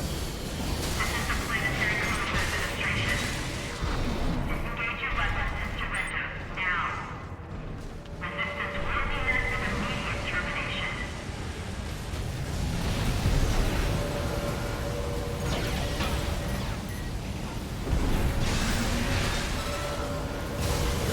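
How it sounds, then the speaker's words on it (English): Missile barrage explosions in the mech combat game Armored Core VI rumble as a dense, continuous roar with swelling booms, running under a player's talk throughout. "have some missiles"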